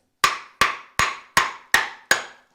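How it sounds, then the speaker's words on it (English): Six sharp brick hammer strikes chipping stone veneer, evenly spaced and ringing briefly, each cracking out loudly and decaying before the next blow. "I'm probably gonna take a little bit of this off with my hammer."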